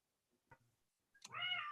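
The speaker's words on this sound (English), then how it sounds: "You'll note I have a cat in the background that's quite noisy" A pet cat gives a short chirp, then a longer, louder meow, heard fairly faintly against an otherwise quiet room.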